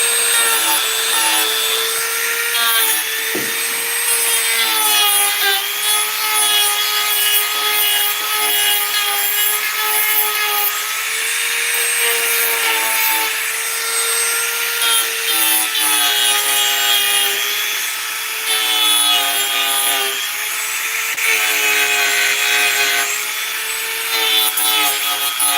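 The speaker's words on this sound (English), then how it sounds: "So I'm going to sand it down to how I want it with the Dremel." A Dremel rotary tool sands a wooden dresser knob, its loud, continuous whine holding a steady pitch that wavers slightly as the bit presses into the wood, running without pause.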